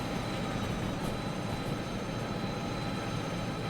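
A train rolling past in the Derail Valley railway simulator game, a steady broadband rumble and rattle that stays loud and even throughout without letting up.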